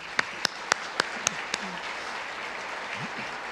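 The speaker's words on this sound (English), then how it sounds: "Let's give the platinum sponsors a round of applause." An audience at a chamber of commerce annual meeting applauds the platinum sponsors, with a few sharp claps standing out over a soft, distant patter of clapping that continues briefly.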